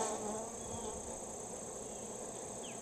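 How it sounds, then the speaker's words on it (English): Honey bees buzz steadily and densely around an open hive during a late-season inspection with capped honey and brood frames, a constant close swarm drone with no talk over it. "Oh, there are bees everywhere here."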